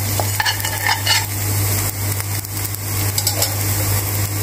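Chopped ginger frying and being stirred in a pan, a steady close sizzle with scraping strokes of a utensil through it, over a constant low hum, no talking.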